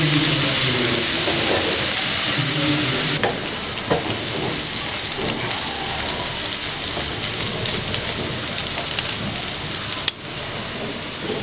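Onions frying in a pan for mutton chukka, a loud continuous rain-like sizzle that holds steady throughout with occasional stirring clinks, no voices.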